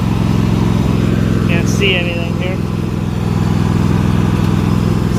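A Kohler-engined garden tractor, previously damaged by fire, runs steadily in top gear with a loud, even mechanical drone and rattle, while someone talks over it.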